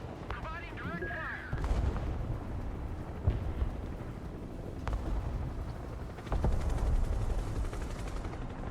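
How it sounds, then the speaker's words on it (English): Rocket artillery strikes from a HIMARS launcher in the Broken Arrow video game, with loud booming blasts and rumbling fire bursts over a dense battle backdrop, as a voice speaks briefly near the start. "this is a great opportunity for our HIMARS to strike that entire position"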